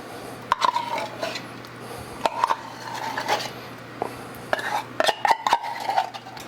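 Sweetened condensed milk is poured and scraped from a can onto white chocolate morsels in a bowl, with scattered clinks, taps and scrapes of metal against dish over a faint steady hum.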